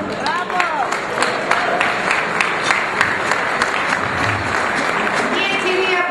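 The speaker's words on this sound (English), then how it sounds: "I want a big round of applause to all of them" Sustained applause from a large crowd at an awards dinner, dense and continuous clapping filling the whole stretch with some background murmur.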